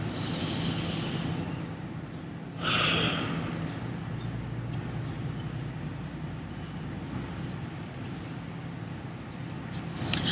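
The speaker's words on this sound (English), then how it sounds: "And take another deep breath in." A single deep breath drawn in during a guided meditation, soft and close, with a brief louder inhale early on over a steady low background hum and faint distant traffic.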